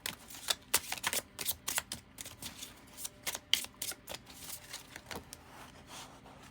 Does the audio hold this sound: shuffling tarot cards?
yes